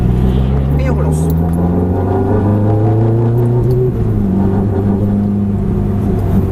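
Race car accelerating hard on a circuit, a loud, close engine note climbing steadily through the gears under continuous French commentary from the driver.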